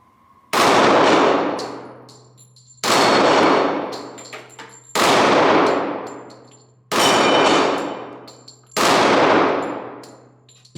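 Five loud .45 ACP shots from a Springfield XDM Elite Compact pistol, each ringing off a steel target with a sharp clang that decays over about a second, spaced roughly two seconds apart with no talking.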